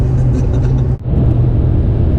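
A car drives along a New Zealand road behind a police car, giving a loud, steady engine rumble and tyre roar close inside the cabin, with one brief dip before the drone resumes.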